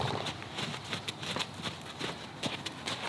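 Horse hooves thud in a quick, irregular rhythm as the horse moves freely around a trainer during free lunging, steady and moderately close, with faint background noise and no clear talk.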